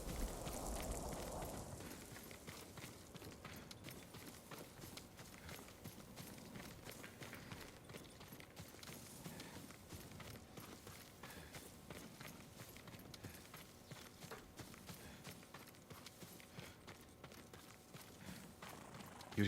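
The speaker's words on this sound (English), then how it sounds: "Yuriko's horse." Horse hooves drum at a steady gallop in Ghost of Tsushima, a continuous clip-clop running the whole length under a busy game soundscape, fairly loud and close.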